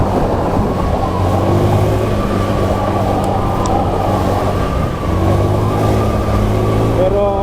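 Steady engine drone with road and wind rush from a motorcycle cruising along an open road in the dark early morning, continuous and loud, with some talking mixed in.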